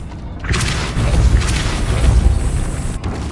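Spell blasts from Hogwarts Legacy on PS5, a loud booming magical burst that swells around half a second and rolls on with a heavy low rumble and crackle for about three seconds.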